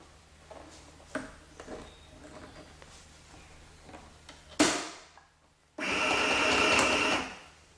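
Singer M1000 sewing machine running unthreaded after a stretch of quiet handling clatter, first in a brief burst that winds down, then in a steady, loud mechanical whir with a high whine lasting about two seconds.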